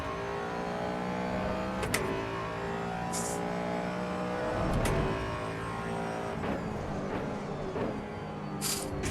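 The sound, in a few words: race car engine in Assetto Corsa Evo video game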